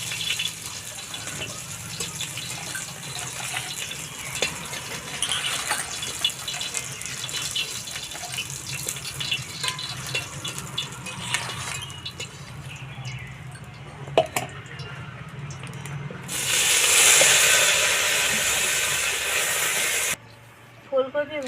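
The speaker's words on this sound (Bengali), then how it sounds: "বাকি ফুলকপিটা এভাবে ভেজে নেব।" Cauliflower pieces fry in oil in a kadai for a cauliflower and prawn dish, with a soft crackling spatter running throughout that swells into a louder, steady hiss near the end.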